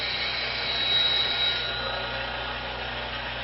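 Tool steel held freehand against a spinning grinding wheel, a steady close whine and rasp of the abrasive that swells briefly and then settles, with no voices.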